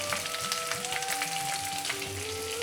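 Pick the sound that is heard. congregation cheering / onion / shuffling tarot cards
onion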